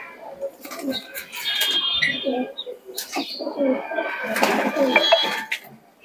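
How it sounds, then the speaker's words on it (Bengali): Pigeons, including a black-eyed one, coo in low, burbling phrases mixed with a few sharp chirps, close by, amid scattered clatter and background noise. "দেখুন এই দবাস কবুতরটা দেখাও, খুবই সুন্দর কবুতর।"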